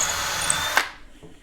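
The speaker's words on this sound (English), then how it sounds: "The drill bit grabs and it drills itself." A Ryobi P271 brushed cordless drill bores into wood with a loud, steady whirring drone that runs for under a second, then cuts off abruptly into near silence.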